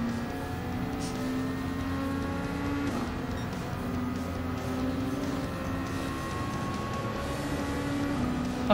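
Dodge Viper race car in Gran Turismo 7 on the Suzuka circuit, its engine holding a steady, moderately loud drone with slight pitch shifts as it runs through the laps, with no talking.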